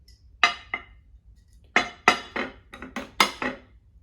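Japanese Kagami sake glassware clinks and taps in a quiet room, with a few sharp, close glassy knocks in irregular clusters and no talk.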